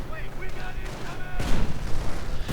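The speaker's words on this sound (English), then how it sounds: "And registered artillery barrage, and there we go" An artillery barrage in a WWII strategy game's 1v1 match, with a steady rumble of distant explosions and gunfire, and a sharper burst of blasts near the end, under a commentator's voice.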